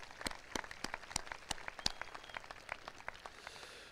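An audience at a 2021 high school graduation ceremony claps. The individual hand claps are distinct and somewhat sparse, a scattered patter that keeps up for a few seconds and then thins out, with no talking.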